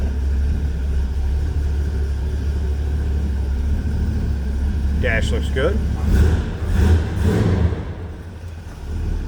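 A 1971 Pontiac LeMans Sport convertible with a numbers-matching 350 V8 idles with a steady low rumble, then is blipped through a few short revs near the end while someone talks over it.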